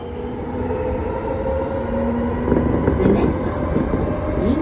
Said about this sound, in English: Me on the train.